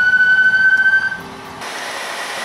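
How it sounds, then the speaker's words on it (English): A loud electronic siren holds a steady wailing tone, then drops and shifts to a different, fainter buzzing tone before fading into a low hum. "Now the vehicle is in drive and the siren will work"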